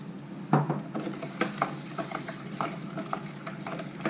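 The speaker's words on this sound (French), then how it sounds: "Je remue." A spoon stirs marble cake batter made with oil and milk, close-up, with repeated soft wet scrapes and taps against the bowl in an uneven rhythm and no talk.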